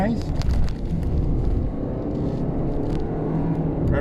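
A Toyota Harrier takes a corner at speed, its engine giving a steady low rumble and whir with road noise throughout, heard from inside the cabin.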